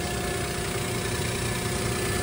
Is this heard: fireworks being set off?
no